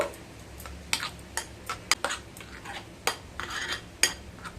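Masoor dal batter with green chilli being mixed in a bowl by hand or spoon, a series of sharp clinks and scrapes against the bowl at an uneven rhythm, close and fairly quiet with no talking.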